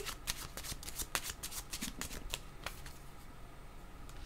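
A deck of cards being shuffled up close for a card-reading draw, a quick run of crisp riffling flicks that thins into softer rustling and handling toward the end, quiet and with no speech.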